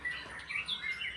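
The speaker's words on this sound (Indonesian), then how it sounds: "murai batu yang sedang teman-teman saksikan di layar handphone saat ini" A white-rumped shama (murai batu) kept at home in a hanging cage sings a quick run of clear, high chirps and short whistled notes, fairly faint, with no voices.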